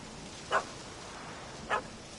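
A puppy in a video game lets out two short, faint barks about a second apart over a quiet background hum.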